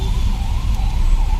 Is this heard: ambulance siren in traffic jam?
yes